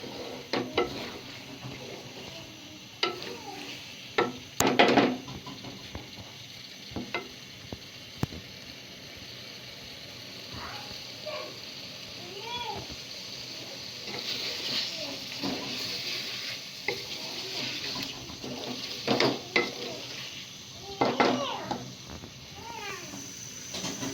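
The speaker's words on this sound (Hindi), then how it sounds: "इसको हिला देना, इसको अच्छी तरीके से आपने भूनना है।" Masala for a pea and chicken curry stirred and fried in a pan, with a steady soft sizzle under repeated scraping strokes of a spoon, close and moderately loud, with occasional brief clinks.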